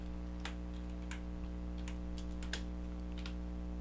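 Typing a file name on a computer keyboard while saving a beat as an MP3 in FL Studio 12: several quick, light key clicks in short irregular bursts over a steady low hum, with no talking.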